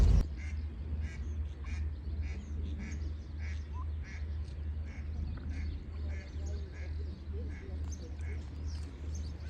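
A duck leading her small ducklings near a cricket ground in Italy quacks in short repeated calls over a steady low rumble, with people talking in the background.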